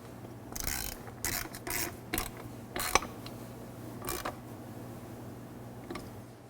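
A 5 mm Allen key tightens a bolt on motorcycle highway pegs, giving several short, close metallic ratcheting and scraping bursts separated by brief pauses.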